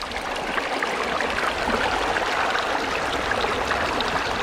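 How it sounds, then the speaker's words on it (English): Water rushes steadily through a gold sluice box outdoors, a continuous close, broadband babbling flow with no pauses. "There's a lovely sound of water as well running through there."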